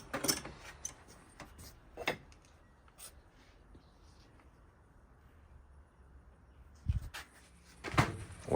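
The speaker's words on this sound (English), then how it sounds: "We opened the top drawer," The top drawer of a Harbor Freight tool and workbench cabinet is opened, with rattling clunks at the start, a quiet stretch, then more knocks and metallic scrapes near the end.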